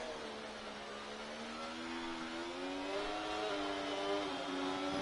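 Formula 1 race car in a racing video game, round at Singapore, accelerating hard with overtake power deployed: a steady, loud high-pitched engine whine rising gradually in pitch, continuous and close, with no talk.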